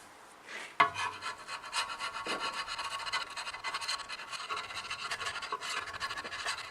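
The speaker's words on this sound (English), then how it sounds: "Use the scraper, big one for the surface, a small little one for all the miter gauge slots." A big scraper works the cast surface of a Rockwell Beaver table saw under restoration, rasping in quick, steady back-and-forth strokes after one sharp knock, close and alone.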